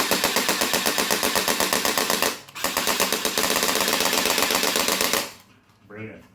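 Rapid machine-gun bursts from an Aliens arcade shooter played with two recoil light guns, a fast loud mechanical rattle with a brief pause, then cutting out to a quiet tail with a short voice.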